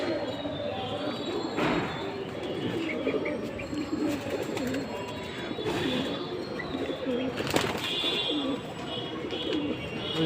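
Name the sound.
pigeons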